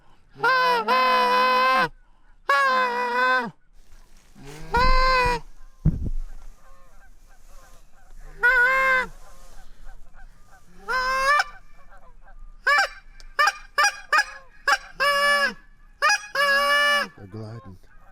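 Geese honking as they fly over a backyard during a goose hunt, with repeated loud bursts of honks in irregular groups, some clustered rapidly, with brief quiet gaps between calls.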